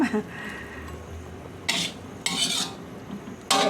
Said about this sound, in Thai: เราเอาผักกาดมาผัดกับ กระเทียมพริกไทยนะคะ